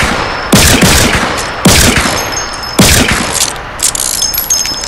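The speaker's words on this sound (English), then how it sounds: "here's the warning shot" Revolver warning shots in a video game: three loud, sharp reports about a second apart, each ringing off with a metallic tail, followed by fainter clicks and pings.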